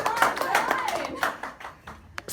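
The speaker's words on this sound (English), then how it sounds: "Round of applause." A classroom of students gives a short, sparse round of applause, a handful of distinct hand claps scattered unevenly, with some voices talking in the room over them.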